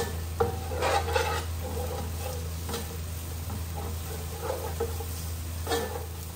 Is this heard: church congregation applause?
no